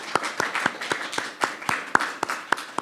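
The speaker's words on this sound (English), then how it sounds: "so let's give him a round of applause" A small church congregation at a Sunday service gives a round of applause for the tech helper: sparse, distinct claps from a handful of people, close and moderately loud, in an uneven rhythm.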